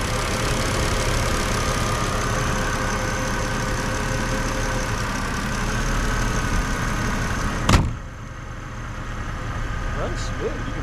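A 1997 Mercedes C-Class engine idling steadily, smooth and fairly quiet, with a low, even hum throughout. A sharp click sounds near the end and the engine carries on under it.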